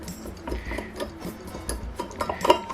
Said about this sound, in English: then we can screw the screws back in